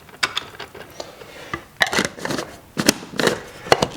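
Liquid sloshing and clattering inside a film developing tank being agitated by hand, with ice in the water, heard as a series of irregular close knocks and swishes with no talk.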